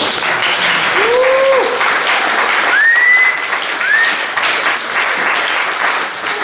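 A church congregation applauding during a service, a loud dense wash of clapping sustained throughout, with short sung or shouted voice tones rising over it.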